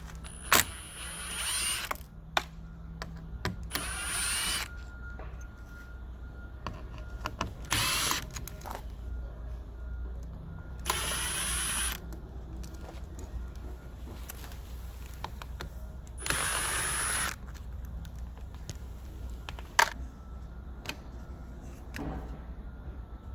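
A T15 Torx driver backs screws out of the passenger-side mirror on a 2007-2014 Mercedes W216 CL-class, giving several short whirring mechanical bursts separated by quieter handling noises, close up with no talking.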